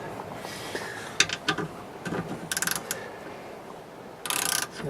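Socket wrench with a 16mm socket ratcheting on a seat bolt inside a 2018 Sprinter van during a swivel seat install: short bursts of close, crisp clicking separated by pauses, with soft handling noises between.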